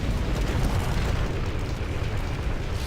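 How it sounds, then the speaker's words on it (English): Napalm strike and artillery barrage in the Rise of the Reds strategy game, a dense continuous rumble of explosions and fiery roar, loud and close throughout with no talk. "napalm strike and an artillery barrage"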